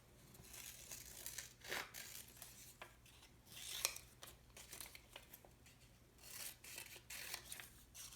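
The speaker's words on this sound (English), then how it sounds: "I'm going to cut these out at the same time and put them on." Repeated snipping and crisp paper cutting, close and fairly quiet, with rustling and crinkling of paper between cuts; no talking.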